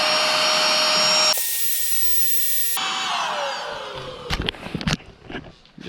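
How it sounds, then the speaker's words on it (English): An electric air pump inflating a camping sleeping pad drones with a steady motor whine that surges into a louder, rougher rush midway, then settles and slows as a few knocks and handling noises follow. "Nice thing about this pump, it also deflates them."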